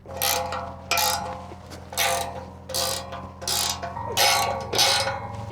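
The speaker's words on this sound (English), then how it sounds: "as I tighten this nut, I'm just sandwiching all this together" A nut being tightened down on a J-bolt set in concrete, clamping a basketball hoop mount together, gives repeated ratchet-like clicking bursts in a steady rhythm, close and fairly loud.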